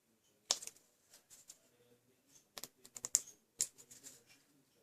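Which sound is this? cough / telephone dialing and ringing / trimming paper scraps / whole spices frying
trimming paper scraps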